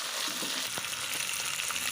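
Green chilies, curry leaves and onion pieces sauté in a hot pan with a dense, continuous sizzle, close and steady for a couple of seconds, with a faint tap or two of stirring.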